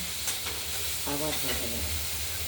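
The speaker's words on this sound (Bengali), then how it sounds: "ঢাকনাটা খুলে আমরা নেড়ে চেড়ে আরেকবার দিলাম" Thin-cut pumpkin strips fry in oil in a wok with a steady close sizzle and hiss. A utensil stirs and scrapes through them, and a brief voice sound rises over the frying midway.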